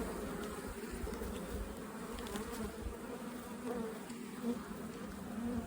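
Honeybees hum around an open hive in early spring, a dense, soft, continuous buzz at close range with slight swells and no voices.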